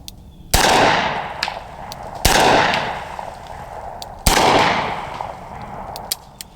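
Three loud, sharp gunshots from .45 Colt rounds fired in a Smith & Wesson 460 XVR revolver, each with a ringing echo tail, spaced about two seconds apart outdoors, with fainter clicks between them.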